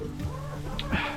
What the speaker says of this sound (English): there are the chickens, which are used for eggs